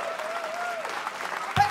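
Concert crowd at an outdoor blues night applauds the sound engineers, a dense spread of clapping under a host's voice, ending with a short loud thump near the end.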